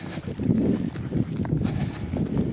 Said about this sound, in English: We're on a plateau quite windy.